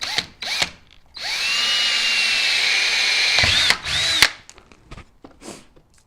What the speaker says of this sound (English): just drill your 1/4 inch hole in here in the end somewhere